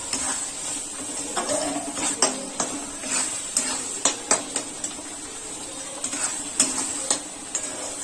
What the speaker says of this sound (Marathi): आता आपला मसाला छान परतून झालाय. हे बघा मसाल्याला तेल सुटायला लागलंय.